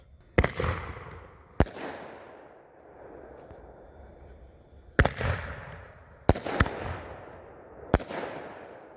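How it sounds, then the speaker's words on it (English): Three fused Black Cat black box artillery shells going off in sequence: sharp, loud launch thumps followed by booming bursts and crackling tails, roughly five distinct blasts with echoing decay between them. "There's going to be 3 of them firing off in sequence."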